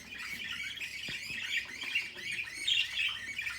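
Budgerigars in a backyard aviary chatter and chirp continuously, a busy flock of twittering calls at moderate distance with no talking.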